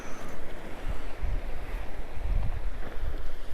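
Sea waves at a rocky beach in Looe, a steady wash of surf mixed with wind buffeting the microphone, fairly loud and continuous with no talking.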